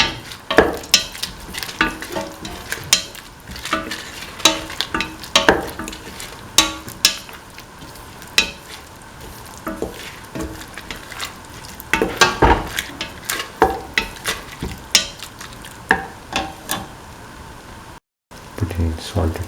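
A spoon repeatedly scrapes and clatters through a simmering split chickpea and bell pepper stew in a pot, sharp irregular stirring knocks over a soft bubbling sizzle, with a voice speaking between strokes.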